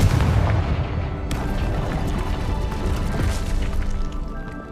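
A Confringo blasting curse goes off in Hogwarts Legacy with a heavy booming explosion and a sharp crack about a second in, then a long rumbling roar that slowly fades.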